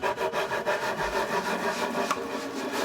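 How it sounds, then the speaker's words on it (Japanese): Wooden parts being flat-sanded on sandpaper fixed to a workbench, a continuous rhythmic rasping of back-and-forth strokes, close and steady throughout, no voices. "最終的に平面を出すためにサンドペーパーを作業台に貼り付けて平面研磨していきます"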